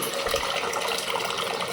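A mini washing machine bought from AliExpress, set to a five-minute wash, churns its water in a steady broadband swish with no pauses, close and moderately loud.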